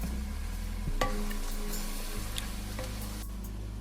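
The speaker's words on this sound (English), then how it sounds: "Get that all stirred in and scrambled all up." Food being stirred and scrambled in a pan on a stove: soft sizzling under a low hum, with a few scraping and clinking utensil strokes against the pan.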